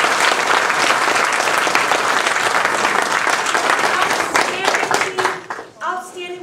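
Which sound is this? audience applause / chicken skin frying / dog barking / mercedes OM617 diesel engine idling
audience applause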